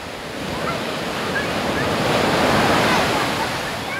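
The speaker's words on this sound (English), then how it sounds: "Maybe we want more of the waves" Generated ocean ambience of surf washing ashore, a dense, continuous roar of breaking waves with a breezy hiss, swelling slightly louder toward the middle and staying steady throughout.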